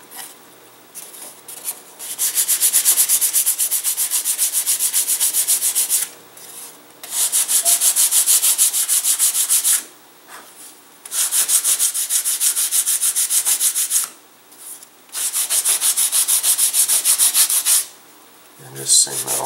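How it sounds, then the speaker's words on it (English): Sandpaper rubs over the top of a laser-cut catapult glider wing, likely balsa, in long steady strokes of about three seconds each, separated by short pauses; close, loud and dry with no talking. "And just sand that all the way around there."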